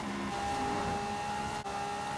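A Lamborghini in Forza Horizon 5 drives at speed, its engine holding a steady, loud drone with a brief dip midway, like a gear change.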